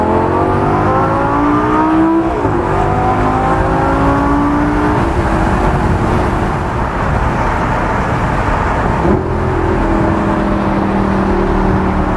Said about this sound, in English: You'll hear the blip throttle right here.